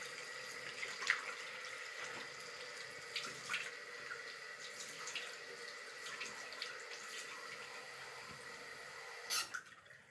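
Tap water running into a sink while a face is washed, a faint continuous trickle with small splashes and drips scattered throughout, quiet and close.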